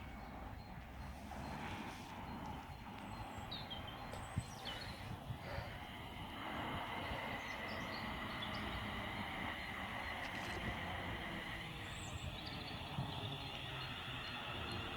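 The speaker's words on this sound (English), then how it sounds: "the next train to arrive onto platform 1 is going to be London Midlands 350, bound for Birmingham New Street" A London Midland Class 350 electric train pulls into a platform on the West Coast Main Line at Hartford, a faint, distant rumble of wheels and motors building steadily with scattered birdsong over the station ambience.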